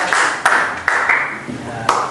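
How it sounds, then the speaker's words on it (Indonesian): Classroom clapping for a student group after their presentation, a few loud sharp claps over a bright, dense patter of applause, close and fairly loud. "Tepuk tangan ya untuk kelompok 3."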